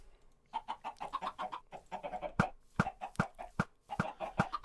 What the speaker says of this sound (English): We're still not killing any chickens